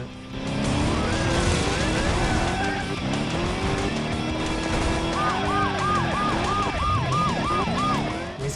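Police car sirens wail continuously as cops chase a car in the video game Smash Bandits, loud and close over roaring engines, with a rapid warbling siren pattern toward the end.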